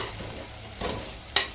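Red chili powder frying in a pan, a low sizzle with two or three quick scraping stirs of a spoon, close and brief.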